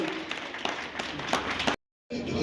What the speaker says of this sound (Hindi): तालियों से अभिनंदन होता रहना चाहिए।